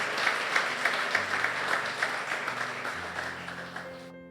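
A church congregation claps for a few seconds, with lively applause that fades slowly before a sustained tone from an instrument enters near the end.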